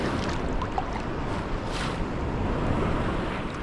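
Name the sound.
ocean waves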